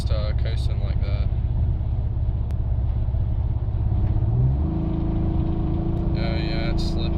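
A 1997 Nissan Maxima's engine revs steadily and loudly while its automatic transmission slips, giving little acceleration; the drone rises in pitch partway through, with voices talking over it.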